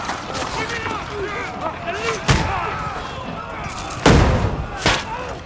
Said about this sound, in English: Got early hand cannons, I didn't think we'd see those.